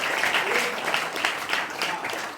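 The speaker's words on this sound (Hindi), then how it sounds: "इसके लिए जोरदार थोड़ी ताली बजाओ।" Students in a classroom clapping together, a steady, fairly loud round of applause from a group that holds throughout without talk.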